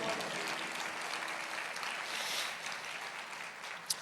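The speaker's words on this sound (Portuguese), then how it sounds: "Glória a Deus, pode aplaudir o Senhor." A church congregation applauding during a service, with dense sustained clapping filling the hall at an even level for several seconds, and a sharp single clap standing out near the end.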